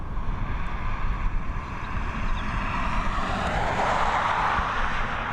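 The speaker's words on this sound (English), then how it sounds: "It looks like we've got an Air France on taxi though." An Air France airliner taxiing at Dublin Airport, its jet engines giving a steady distant roar with a broad hiss that swells toward the end, heard alone without voices.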